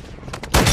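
Gunfire in Modern Warfare II, a close, loud burst of shots that erupts after a brief quieter lead-in.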